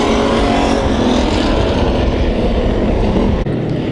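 Hobby stock race cars roar around a speedway during a heat race, a dense, steady wall of engine noise from several cars at once, loud and continuous with no talking.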